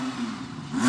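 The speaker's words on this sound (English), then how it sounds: "Give it some revs." An Audi R8 engine revs up, its pitch climbing toward the end of a short burst, loud and close with no talking.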